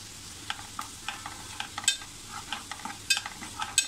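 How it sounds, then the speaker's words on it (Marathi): Two spoonfuls of Malvani masala are sautéed in a pan for egg masala, with rapid, light scraping strokes of a spatula over a soft sizzle, repeating roughly every third of a second, close and quiet. "1-2 मिनटं आपल्याला परतायचं आहे"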